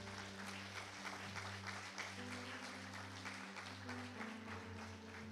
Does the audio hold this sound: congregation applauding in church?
yes